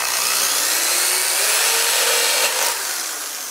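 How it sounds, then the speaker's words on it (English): An electric drill bit grinding into an aluminum can being prepared for a solar heater, a continuous high whining scrape that shifts pitch as it cuts through, close and loud. "Just press just a little bit until you see the drill going in."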